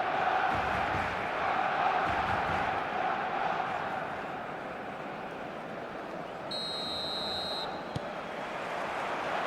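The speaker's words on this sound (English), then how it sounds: "This crowd doesn't do ordinary, and we should be in for something very special." A stadium crowd roars continuously before a Barcelona match in the eFootball video game, a dense, distant wall of cheering that swells and eases slightly without a break.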